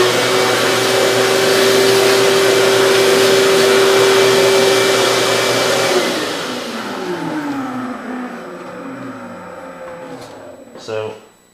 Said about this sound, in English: grab my vacuum cleaner and vacuum that crap out of the way